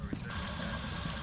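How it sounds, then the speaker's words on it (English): Steady rushing water from a running faucet in a video game, a constant hiss with low gurgling underneath, fairly faint. "You turned on that faucet, right?"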